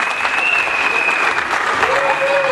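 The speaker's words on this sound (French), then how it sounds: "Monsieur Alain, je vous demande de vous lever pour que la salle puisse vous applaudir." A hall audience gives loud, sustained applause at a ceremony presenting exam success certificates, the clapping dense and even throughout with faint voices and a tonal whistle or feedback underneath.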